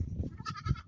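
A goat gives a short, faint bleat, a brief nasal cry heard at a distance.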